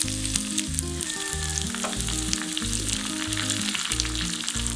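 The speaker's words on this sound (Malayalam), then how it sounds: "ഇതിലേക്ക് കുറച്ച് കറിവേപ്പില ഇട്ട് കൊടുക്കാം." Curry leaves hit hot coconut oil with browned small onions and mustard seeds, setting off a loud, steady close sizzle full of crackles and spits, with a looping music bed underneath and no speech.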